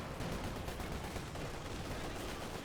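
Dense, continuous gunfire and explosive bursts from a Company of Heroes 2 battle, a grenade launch lost in steady rattling small-arms fire with no pause.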